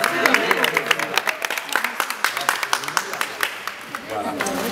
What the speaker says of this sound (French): j'aimerais qu'on l'applaudisse très fort